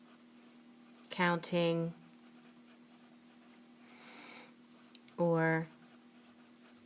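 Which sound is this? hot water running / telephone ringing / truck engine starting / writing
writing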